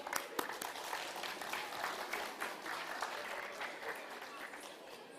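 A crowd applauds steadily at an annual Foundation Day celebration, dense clapping that holds at an even level throughout, with a faint murmur of voices beneath.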